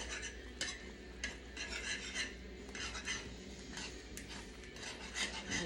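Thick homemade sausage gravy stirred in a pan, with repeated scraping and wet sloshing strokes and light clinks of a utensil against the pan, close and fairly quiet, no talking.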